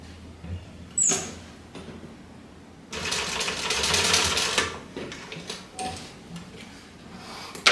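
A sewing machine bastes backpack fabric pieces closed. It runs quietly in short stitching bursts, with a louder stretch of whirring in the middle and a few small clicks and fabric handling noises around it.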